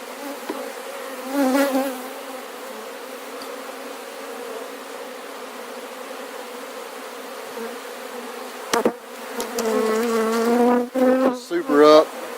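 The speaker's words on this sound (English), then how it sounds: "just kind of brush these bees back down into the hive" Honeybees swarm over an opened hive with the super removed, giving a dense, continuous buzz close by, broken toward the end by brushing and handling noises.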